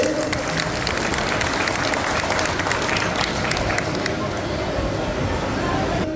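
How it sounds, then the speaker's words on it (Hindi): Crowd at a community swearing-in ceremony clapping with both hands, loud continuous applause mixed with murmuring voices and hall babble. "इसके लिए आप इनको आशीर्वाद दोनों हाथ से ताली बजा के दे दीजिए।"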